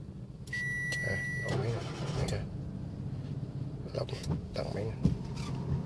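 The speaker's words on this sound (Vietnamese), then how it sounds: "Đèn nổ máy ha." A car engine is started by remote starter, cranking and catching into a low idle at moderate distance, with beeps and clicks from the remote and voices talking nearby.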